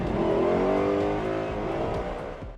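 Lotus Elise GT1 race car, also known as the Type 115, with its engine revving loudly and steadily up close, a sustained harmonic roar that eases slightly toward the end.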